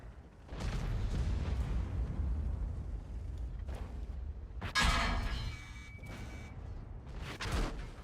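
Several loud booming tank gun shots from World of Tanks gameplay, a Carro 45t match, with heavy low rumble throughout and a sharp burst near the middle, no talking.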